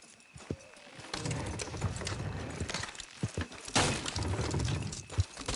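Horses' hooves clip-clop steadily on a road in the video game Red Dead Redemption 2, a continuous rhythmic trotting over a busy rumbling backdrop with occasional sharper knocks.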